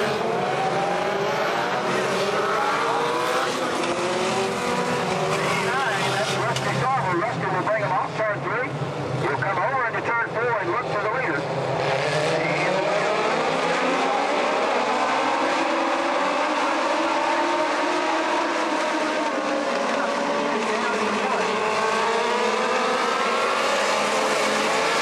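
Legends race cars at Kingsport Speedway roar around the oval, a continuous loud engine drone rising and falling in pitch as the cars sweep past.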